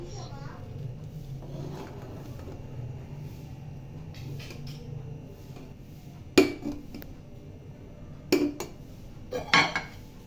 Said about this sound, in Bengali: এবার ভাতটা চামচ দিয়ে একটু উপর নিচ করে দিয়ে ঢাকনা দিয়ে দিচ্ছি